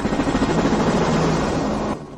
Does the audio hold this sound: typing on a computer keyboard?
no